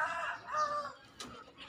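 Native chickens cluck softly on a small farm, a few quiet calls close by with a short sharp note near the end.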